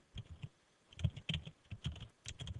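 Quiet, close clicking of a computer keyboard as a command is typed, keystrokes arriving in short irregular clusters with small gaps, no talking.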